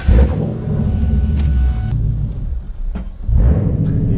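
A Ford Mustang with a 2-valve V8 idles with a deep, loping rumble close by. It blips in a couple of short revs, and the idle sounds uneven and bouncy between them.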